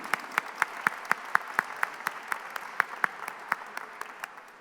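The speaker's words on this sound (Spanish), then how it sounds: "Recibamos con un fuerte aplauso al maestro José Octavio López Presa" Applause welcoming a speaker at a conference on corruption statistics in Mexico, a soft crowd patter underneath steady, evenly spaced loud claps from one nearby pair of hands, fading slightly toward the end.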